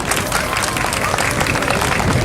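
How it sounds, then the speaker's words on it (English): Crowd applause at an Asian festival for the winners of a best village contest, a continuous wash of clapping from many people, fairly loud, with faint voices mixed in. "Let's give them another big round of applause"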